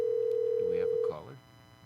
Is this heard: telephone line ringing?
yes